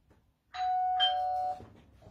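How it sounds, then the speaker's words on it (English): A doorbell rings once with a clear two-tone electronic chime during dog training at home, sounding loud and close for about a second over quiet background. "The next step would be the doorbell."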